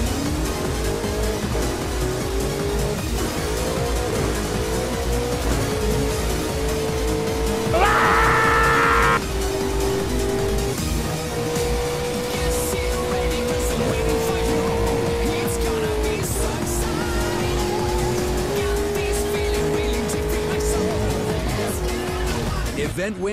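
Racing cars in Burnout Paradise roar with steady, loud engine drone throughout a timed race, with a brief tire squeal partway through and the engine pitch rising and shifting as the car accelerates.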